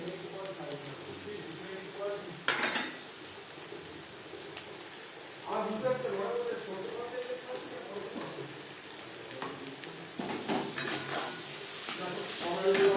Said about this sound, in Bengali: আলু ও হিঙের সাথে মুগ ডাল বাটা বেশ ভালো করে মিক্সড করে দেব